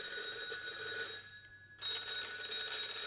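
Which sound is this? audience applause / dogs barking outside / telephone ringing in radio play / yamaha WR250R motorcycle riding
telephone ringing in radio play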